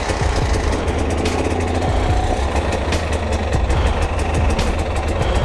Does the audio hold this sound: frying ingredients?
no